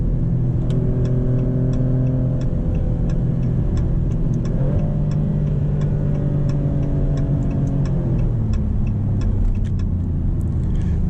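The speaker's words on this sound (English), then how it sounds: "We'll do one more acceleration." A 2025 Maserati GranCabrio Trofeo engine hums steadily and rises in pitch as it accelerates, drops briefly, then climbs again, with a faint regular ticking on top.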